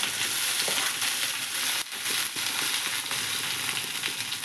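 Cumin, mustard seeds, garlic and legumes fry in hot oil for a tempering, giving a close, continuous, crackling sizzle with faint stirring clicks and no voices.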